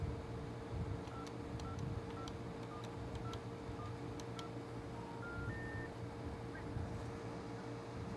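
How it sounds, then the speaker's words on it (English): Touch-tone DTMF dialing from a DIY keypad, a dozen or so short, evenly spaced beeps of varying pitch over a steady hum and faint background noise, fairly quiet and with no talking. "Let's hear our dial tone on there."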